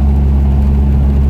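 A stock-looking car's engine runs loud and close, a steady deep rumble with a strong low throb and little variation across the short stretch, with no voices.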